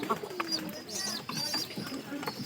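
Pigeons coo softly at close range in a home loft, a few low rolling calls over quiet background noise.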